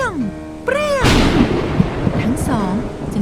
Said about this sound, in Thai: เสียงฟ้าร้องดังปรี